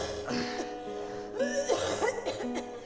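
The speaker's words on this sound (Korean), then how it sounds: "나 진짜 그놈의 기침 소리 시끄러워 죽겠네" Someone coughs repeatedly in rough, raspy bursts, close by, mixed with some background voices and noise.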